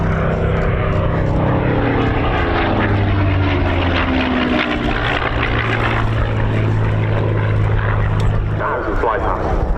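A propeller aircraft flies aerobatic display manoeuvres, an oblique 360 into a three-quarter victory roll, at the RAF Cosford Air Show, its engine drone rising and falling continuously beneath steady commentary.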